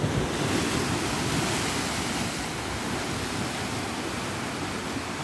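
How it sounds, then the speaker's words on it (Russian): Ocean waves crash against rocks on the coast at Luanco, Asturias, a dense, continuous roar of surf mixed with wind buffeting the microphone, loud and unbroken with no voices. "И волны бьются."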